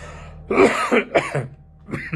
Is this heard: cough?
yes